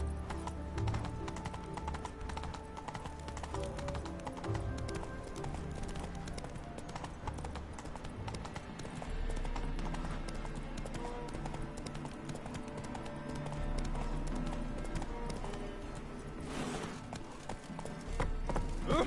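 Horse hooves galloping in The Witcher 3, a steady, close clip-clop rhythm that carries throughout over a continuous bed of game music and ambience.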